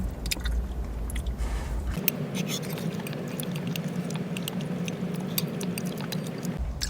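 Chewing bolognese-filled fish-shaped bread (bungeoppang) at a riverside car campsite, soft close moist mastication sounds repeating steadily over outdoor background noise.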